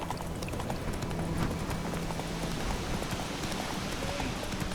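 Horse hooves galloping in the video game The Witcher 3, a dense continuous clip-clop at a steady, fairly close, even loudness with no talk.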